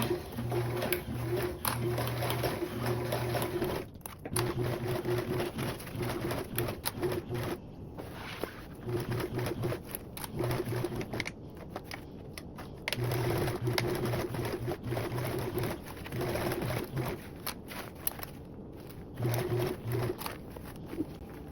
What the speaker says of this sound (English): I will actually backtack it and then sew again